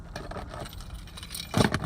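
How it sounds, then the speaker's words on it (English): A bunch of keys stuck to a magnetic pickup tool jangles and rattles as it is shaken, with a louder burst of clinking near the end. "You can't even shake them off."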